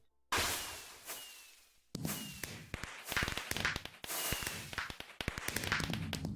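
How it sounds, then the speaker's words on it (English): Fireworks going off in the Minecraft video game: a series of sharp cracks and bursts, some with brief whooshes and crackling tails, coming in irregular clusters at moderate loudness with no talk. "gotta enjoy those fireworks"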